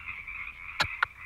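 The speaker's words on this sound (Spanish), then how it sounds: "Cantaba la rana. Cucú, cucú." A frog croaks in a children's song, a steady buzzing trill with three sharp, loud croaks near the end, heard alone and close.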